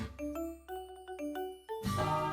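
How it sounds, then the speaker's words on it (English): A school bell chime in the visual novel game Princess Evangile: a clear, bright sequence of bell tones in a stepped melodic pattern, followed by a louder burst of softer background music. "The bell rang and we took our seats."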